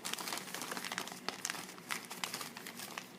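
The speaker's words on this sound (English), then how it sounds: "So when you open it, it comes in a plastic bag." A thin plastic bag holding a decal set for a 1/35 Tamiya French B1 Bis tank kit is opened close up, giving quiet crinkling and rustling with a few sharper crackles.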